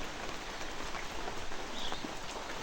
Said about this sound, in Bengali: বৃষ্টিটা একদম কম কম